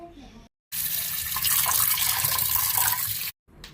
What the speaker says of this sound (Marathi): आता या ठिकाणी आपण डाळ स्वच्छ धुवून घेतली आहे